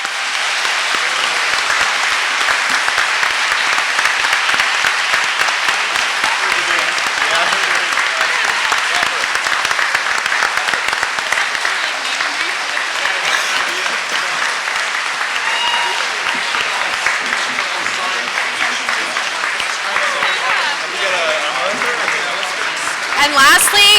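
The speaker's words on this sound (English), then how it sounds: "let's give them all a nice big round of applause" A debate audience gives sustained, dense applause for over twenty seconds, even and full throughout, swelling slightly at the very end.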